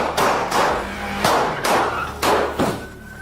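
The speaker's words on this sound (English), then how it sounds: "Shots fired!" Gunshots fired during a police confrontation with fleeing armed robbery suspects in Fresno, about five loud, sharp reports spaced roughly half a second apart, close and booming over a rumbling background.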